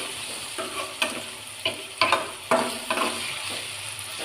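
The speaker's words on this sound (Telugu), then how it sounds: "ఇలా టమాటా ఆనియన్స్ వేసి బాగా ఫ్రై చేసేసుకోవాలి." Tomatoes and onions fry in a pan for cauliflower curry with a constant sizzle, punctuated by repeated scraping strokes of a spoon stirring at a steady rhythm, up close.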